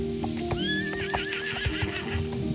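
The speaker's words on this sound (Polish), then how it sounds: "To są konie!" Horses in the video game Star Stable Online give a clear, rising and falling neigh over steady clip-clop hoofbeats and a constant synthetic background hum, with no talking.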